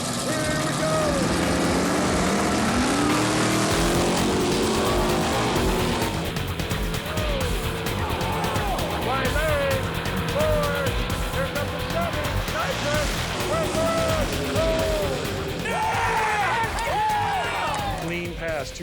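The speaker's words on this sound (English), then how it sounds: "The lone Ford in the mix, going against the small block powered Chevy Nova." Drag racers roar down the strip as a lone Ford races a small-block Chevy Nova in a grudge-match final. Loud, sustained engine noise fills the whole stretch, with shifting tones as the cars pass, and a commentator talks over it.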